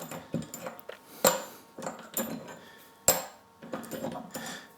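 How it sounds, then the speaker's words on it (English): Metal masses are lifted off an abrasive load carrier in an engineering sliding-load test, giving several sharp metallic clanks and knocks at irregular intervals, close and fairly clear, with soft handling noise between them. "Just taking those masses off."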